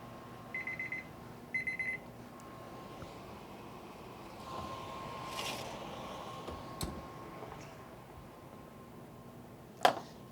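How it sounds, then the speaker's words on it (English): A kitchen timer beeps in two short bursts near the start. They fade into a quiet, hissy kitchen backdrop with a few soft clicks and handling sounds. "I will put the timer on because I don't trust myself"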